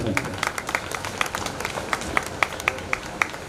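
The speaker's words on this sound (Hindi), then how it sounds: "जोरदार तालियों से अभिनंदन" At a Jain temple ceremony for the Shri Shantinath Digambar Jain temple committee, a modest audience claps, the individual handclaps distinct and rhythmic, fairly close and moderately loud throughout.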